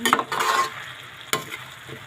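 Eggplant sizzles in a hot frying pan while being stirred. A burst of scraping and hissing comes first, then the frying softens, and a single sharp utensil clack lands near the end.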